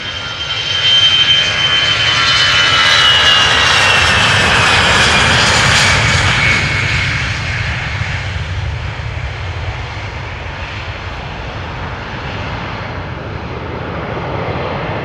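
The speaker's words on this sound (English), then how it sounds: "This A320-200 is 18 years old already." An 18-year-old Airbus A320-200 jet roars on departure from Amsterdam Schiphol Airport, a loud sustained engine rumble and whine that peaks early, then slowly fades as the aircraft climbs away.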